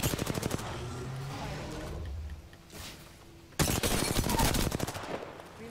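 Gunfire in an Apex Legends match: bursts of rapid automatic shots at the start, a quieter lull, then a louder sustained volley of repeated rounds.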